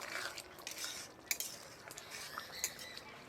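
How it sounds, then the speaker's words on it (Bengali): Fried prawns are stirred with pointed gourd and potatoes in a pan, making faint scraping and a few light metallic clinks in a quiet, uneven rhythm. "এখন এর মধ্যে দিয়ে দেবো ভেজে রাখা চিংড়িগুলো। খুব ভালোভাবে নেড়ে নেব।"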